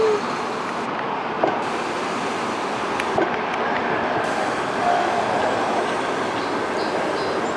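Freight train cars on a CP rail line, pulled by a Peterbilt truck, rumble past in a continuous steady roar with occasional metallic clanks and faint wheel squeals.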